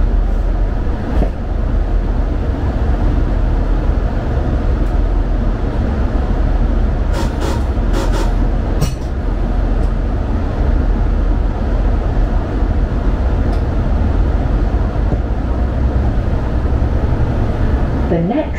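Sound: Class 165 diesel train 165126 running between Reading and Basingstoke

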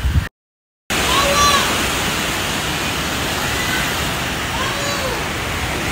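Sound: heavy rain and wind

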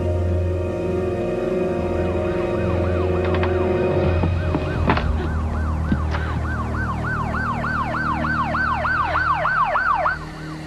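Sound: police sirens in a film

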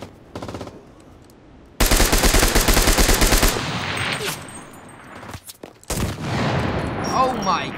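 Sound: gunfire from a picked-up gun in the video game CRSED: F.O.A.D

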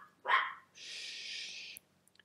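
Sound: dog barking at neighborhood workers

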